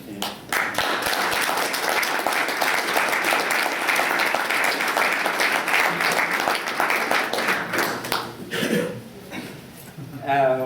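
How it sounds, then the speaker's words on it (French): Sustained applause from a crowd, dense and steady for about nine seconds, then tapering off as a voice begins. "je voudrais un petit applaudissement pour Eric."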